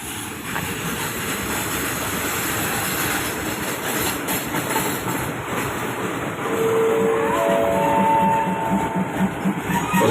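Diesel locomotive 1029 at Non Sung railway station in Thailand gives a steady, loud engine rumble and the rattle of rolling stock, with a brief thin squeal rising toward the end.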